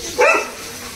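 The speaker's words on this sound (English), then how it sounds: "Oh, few more dogs." A single short dog bark rings out over a faint outdoor hush at a place in Kerala where rabbits, an ostrich and a dove are also kept.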